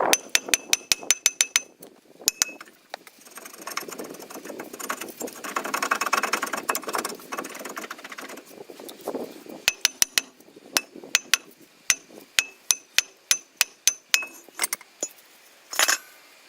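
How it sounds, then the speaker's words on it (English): Sharp metallic hammer blows ring out against the face of a rusted brake disc on a Vauxhall Antara front axle, a fast burst of strikes, a scraping pause, then steady spaced single hits, close and loud. "The best way to shock the rust free is to hit the face of the disc."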